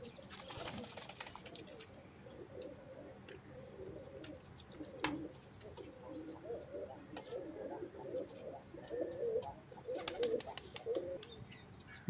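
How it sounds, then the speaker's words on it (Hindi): Rampuri pigeons, kept for sale in Pilibhit, coo in low, throaty, overlapping phrases that carry on steadily throughout, with occasional wing flutters and faint chirps from other birds nearby. "लाजवाब रामपुरी कबूतर आप देख रहे हैं"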